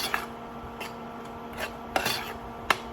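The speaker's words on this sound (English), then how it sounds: "As it cooks, you just want to continue to stir, continue to push down on the meat" Ground meat for hot dog chili being stirred and pressed down in a pan, with steady scraping and rubbing and a few sharp clinks of the utensil against the pan over a low cooking background.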